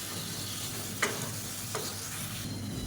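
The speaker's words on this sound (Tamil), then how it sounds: "மீடியம் சைஸாக ரெண்டு தக்காளி பொடியாக கட் பண்ணதை சேர்த்துக்கலாம் சேர்த்து நல்லா மசிஞ்சு வர அளவுக்கு வதக்கி வச்சுக்கலாம்" Chopped tomatoes sautéing with ginger garlic paste in a pan for a chicken gravy, a steady soft sizzle broken by two brief stirring scrapes, close and moderately quiet, with no talking.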